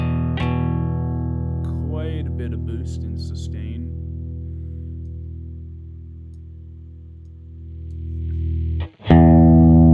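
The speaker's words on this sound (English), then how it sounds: "Quite a bit of boost and sustain." Electric guitar through a Peavey Vypyr VIP2 amp with heavy boost and sustain: one struck chord rings out long and loud, a few quieter notes pass over it, then a sharp new strike comes in.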